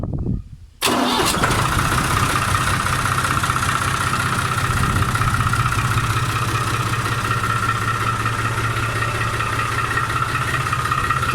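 A New Holland 50c tractor engine cranks briefly after a moment of near silence, catches and settles into a loud, steady diesel idle that runs on unchanged for about ten seconds, with no talk over it.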